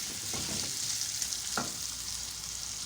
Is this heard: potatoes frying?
yes